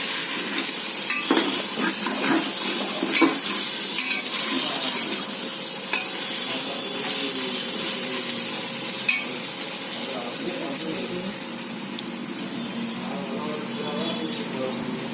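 Steady sizzling of vegetables sautéing in a pan for vegetable brinji rice, with occasional stirring scrapes and clicks throughout, continuous and moderately loud.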